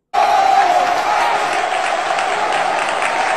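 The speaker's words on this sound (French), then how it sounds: "Applaudissez pour lui," Loud crowd applause with scattered cheering at a gathering about the Chad presidency, a dense steady wash of clapping that starts abruptly and holds at full strength throughout.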